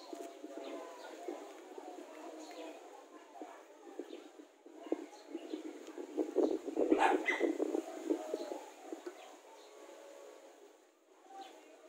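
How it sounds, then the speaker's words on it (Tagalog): A pigeon or dove coos a few soft times outdoors near a car that is being restored, amid faint background bustle. "Ayan pa ng ibon guys."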